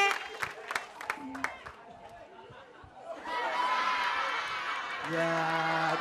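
A studio audience on an Indonesian TV variety show claps. Scattered sharp claps open, then a denser burst of applause and crowd noise swells under voices and music.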